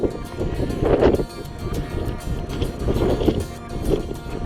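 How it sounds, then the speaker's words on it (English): Strong wind gusts buffet the microphone on an exposed coastal clifftop at Cape Hauy, Tasmania, a loud continuous roar surging in waves with no speech. "it's windy!"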